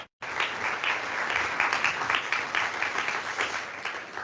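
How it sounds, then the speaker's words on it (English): An audience at a dialogue forum on green skills bursts into loud, sustained applause, a dense wash of clapping that holds steady for several seconds after a brief silence. "This is your applause."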